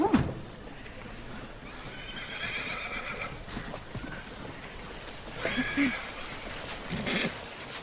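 A horse whinnies in a drama film, with hoof clip-clop and stable movement; the calls come in short bursts at mid-distance, and faint voices mix in beneath.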